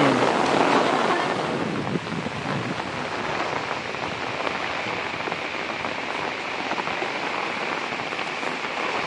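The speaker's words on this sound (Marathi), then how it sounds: "मस्त पाऊस पडतोय." Steady rain falls outdoors near farm fields in the Konkan countryside, a dense, continuous hiss of drops on surfaces with some wind buffeting the microphone.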